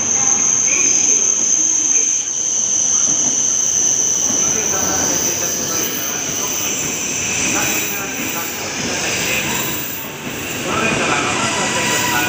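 A Shinkansen bullet train arriving at a platform at Tokyo station, a loud, sustained rolling rush with a high steady whine that eases and swells as it comes in, and voices faintly in the background.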